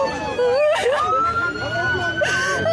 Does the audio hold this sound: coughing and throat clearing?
no